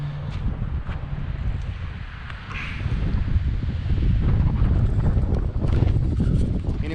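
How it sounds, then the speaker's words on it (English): Strong gusty wind blowing outdoors at a shop, a loud, continuous low rumble buffeting the microphone and swelling a little stronger partway through, with no talking. "I'm about to get blown away out here by all this wind"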